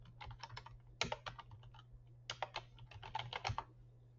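Quick bursts of keystrokes on a computer keyboard as a search term is typed, two clusters of close clicky taps separated by a brief pause, over a faint steady electrical hum.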